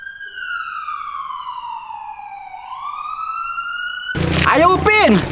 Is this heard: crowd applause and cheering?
no